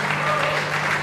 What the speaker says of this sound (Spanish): La gente aplaude esa izquierda larga de Uriondo.